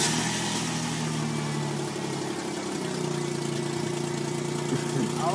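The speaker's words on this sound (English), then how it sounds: "My car started, my engine is firing" A car engine idles steadily right after a tune-up with new spark plugs and a cleaned air filter, a low continuous running hum with a slight putter, close and uninterrupted.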